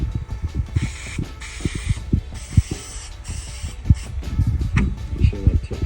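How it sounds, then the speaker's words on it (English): Spray gun hissing in several separate bursts as adhesive or coating is sprayed onto foam for OBS Ford door upholstery in a workshop, with knocks and handling clatter between and beneath the bursts. "Spray both sides. I'll really hose that foam."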